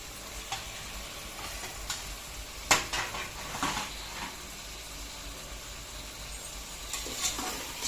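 A kilo of chicken pieces for chicken biryani tossed and mixed in a pan, with a steady sizzle throughout, broken by a few scraping stirs and light clinks of a utensil against the pot.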